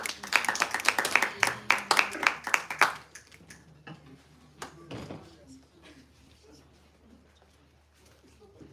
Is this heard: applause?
yes